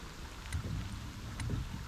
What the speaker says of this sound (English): it commences to raining